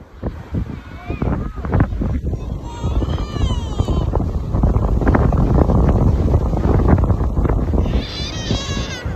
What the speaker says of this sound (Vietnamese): gió to nhờ.